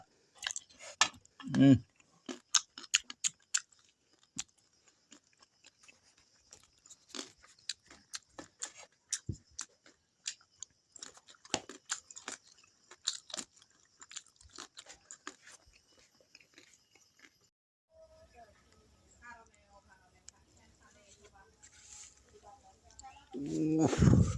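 Someone in a village setting chews and bites food up close, with irregular crunchy, clicky bursts spread across a mostly quiet stretch, a few soft voice sounds, and a louder noise near the end.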